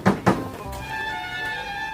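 Two sharp knocks on a door in quick succession at the start, fairly close, then a quiet ringing tone in a home setting with no talk.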